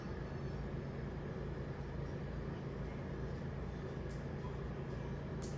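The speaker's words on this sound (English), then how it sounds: "so I'm gonna go here and try to take the train" A train rolling along in the Super Mario Party Jamboree video game, with a steady low rumble and dense rattling held at an even level throughout.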